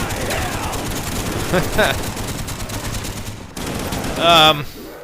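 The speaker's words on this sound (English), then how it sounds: "the turret can fire at them at the same time" Rapid gunfire crackles continuously from a turret shooting zombies in Black Ops Zombies on the Kino Der Toten map, dense and loud, with a tonal in-game effect near the end.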